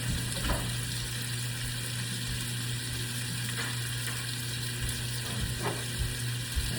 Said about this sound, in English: I love the way that steak sounds whenever it hits the pan